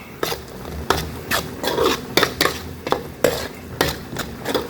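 A spoon scrapes and stirs tomato, ketchup and soy sauce in a pan, giving repeated rhythmic rasping strokes about twice a second, close and fairly loud, with no talking.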